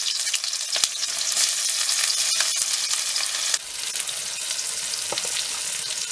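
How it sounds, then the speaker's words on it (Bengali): Onions fry in hot oil for chicken biryani, a constant dense sizzle close by with occasional stirring scrapes and small pops, no talk. "চল তেল গরম হয়ে গেছে, পেঁয়াজটা দিয়ে দিচ্ছি"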